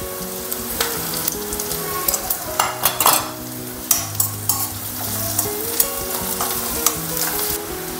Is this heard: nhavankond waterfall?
no